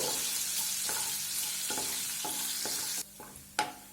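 Thinly sliced garlic fries in a pan for spicy garlic chicken, a dense close sizzle with regular scraping stirs about every half second, the hiss dropping away near the end before a couple of final clinks.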